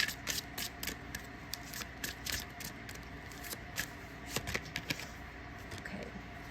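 Tarot cards are shuffled and pulled by hand, with soft, quick riffling flicks and slides close up and quiet, in irregular bursts.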